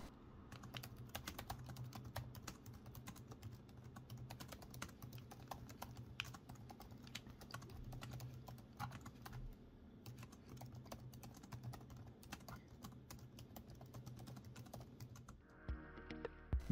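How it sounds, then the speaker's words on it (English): Typing on a Samsung Galaxy Book2 laptop keyboard: a steady, rapid patter of soft key clicks continues throughout, close and fairly quiet, with a few louder taps near the end. "This is how the keyboard sounds."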